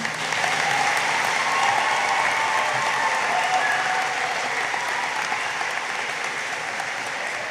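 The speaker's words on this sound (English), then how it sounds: "if we could have a collective round of applause for our graduates and all of their accomplishments" A crowd at a high school graduation ceremony applauds the graduates with steady, dense clapping that holds at an even level for the whole stretch, with no voices above it.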